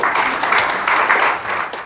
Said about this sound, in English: why don't we welcome him with a big round of applause